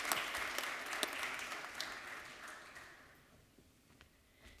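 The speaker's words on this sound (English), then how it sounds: "Give yourself a round of applause." A crowd at a 2022 graduate orientation applauds loudly and steadily, then the clapping thins out and fades to a few scattered claps near the end.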